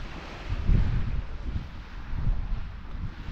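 Cold wind gusting across the microphone at Barton's Point on the Isle of Sheppey, a seaside fishing spot, a steady rush with low buffeting surges, close and moderately loud with no voices.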